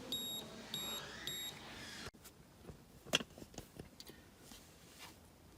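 Three short, high electronic beeps in even succession from a continuity tester across two pins of a six-pin car wiring harness connector on an Acura MDX, each tone sounding as a button is pressed, followed by faint handling clicks.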